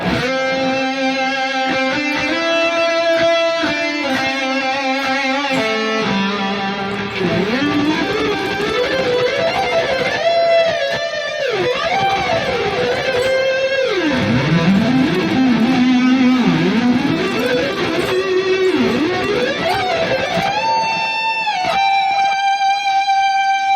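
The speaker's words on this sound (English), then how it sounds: "Okay, back to the high gain lead." A saturated, high-gain Harley Benton Fusion electric guitar through a Fractal Audio FM9 plays a sustained lead line with bends, slides and vibrato, notes singing loudly over one another without pause.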